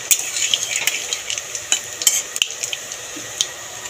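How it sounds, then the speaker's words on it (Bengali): Dried red chilli and black cumin crackle in hot mustard oil as a spoon stirs them, a close hiss with quick scraping and clinks in a short burst, no voices. "নেড়ে চেড়ে ফোড়নটা ভেজে নেব।"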